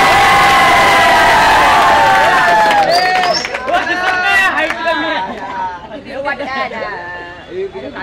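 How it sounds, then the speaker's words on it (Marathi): Crowd at a Lions Open Cricket Tournament 2024 prize distribution ceremony cheering and shouting, loud excited voices with chatter and a babble of talk throughout. "अभिनंदन जोरदार टाळ्या त्यासाठी जोरदार."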